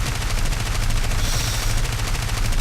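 Aircraft cannons in the War Thunder video game hammer out rapid fire, dense and continuous at close range over steady engine drone, with no talk.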